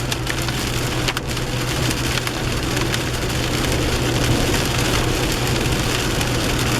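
Steady rain falls on the Pacific Northwest coast as a dense, continuous patter with occasional louder drops, alongside a low constant hum and no voices.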